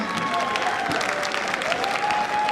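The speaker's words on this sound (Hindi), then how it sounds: "Can we all please put our hands together for our top leader, Mr. Anil Kuri?" Audience applause for a top leader at a network marketing event, a continuous dense wash of clapping from a large crowd, steady and even, with a faint tone running underneath.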